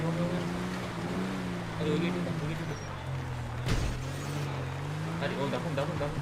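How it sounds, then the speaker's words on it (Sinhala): A vehicle drives in the video game Project Union Ops, giving a steady humming engine drone with a brief louder burst midway. People talk over it throughout. "තුලේ වාහනයක් යන සද්දය"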